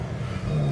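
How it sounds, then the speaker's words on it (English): An engine revs up at a classic car show, a low rising growl building in the final half second over steady traffic rumble. "Something revving up there."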